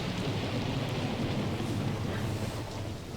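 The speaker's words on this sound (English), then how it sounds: "starts off with a lightning thunderstorm." Steady rain with a low thunderous rumble opening a song, a continuous dense hiss over a deep rolling undertone, with no music yet apparent.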